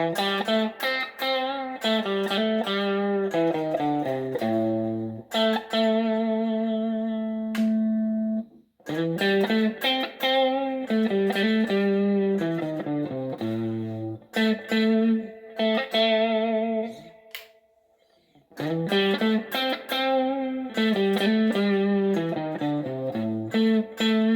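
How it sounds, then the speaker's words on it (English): A Vintage VS6 electric guitar on its bridge pickup plays a run of chords and single notes, clean and close, with short pauses between phrases and notes left ringing. "we'll do a few tones of the vintage VS6, and we'll start off on the bridge"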